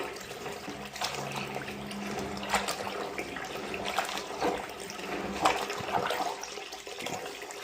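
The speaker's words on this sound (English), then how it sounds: "Get your plunger in there." A blocked sink being worked with a plunger, the overflow hole held closed, gives irregular wet gurgles, splashes and sucking surges of water, fairly soft and close, with a few louder pushes and no voices.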